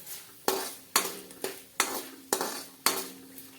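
Roasted peanuts stirred with turmeric in a pan, a utensil scraping metal in six regular strokes about half a second apart, each a sharp clatter fading off, with faint sizzle beneath and no talk.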